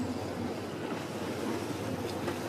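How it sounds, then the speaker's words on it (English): A canal tour boat cruising the waterways of Copenhagen, with a steady wash of water and wind buffeting close by, continuous and even with no voices. "right now we're sailing out of the Canal Tour"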